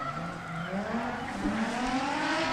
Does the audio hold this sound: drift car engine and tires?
yes